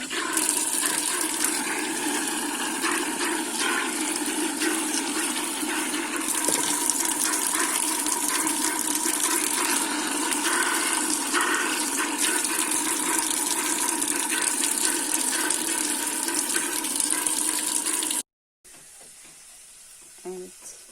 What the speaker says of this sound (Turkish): Şimdi de patlıcanlarımı yıkayayım arkadaşlar.